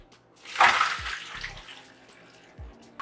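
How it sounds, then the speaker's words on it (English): Boiled pasta water pours out and splashes through a strainer into a sink, a loud gushing rush that rises quickly and then tapers off over a few seconds, with a couple of low knocks from the pot. "Strain the pasta."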